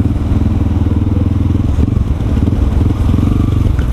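A restored vintage Vespa scooter engine runs steadily nearby, a continuous low rumbling idle with a fast pulsing chatter and no pauses.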